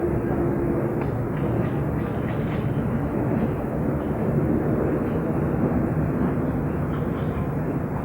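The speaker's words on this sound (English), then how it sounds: "they have a timeout now because they have another airplane going over" Broadband airplane engine drone passing overhead during a 1983 Beep Baseball World Series championship game, a steady, loud roar holding throughout with no voices or other sounds standing out.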